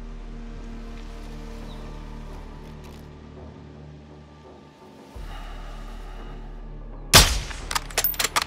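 Rifle gunfire in Call of Duty Modern Warfare 2 (2022) during the Recon By Fire campaign mission: a low engine-like drone and quiet ambience, then a sharp loud shot followed by several quicker cracks and echoes near the end.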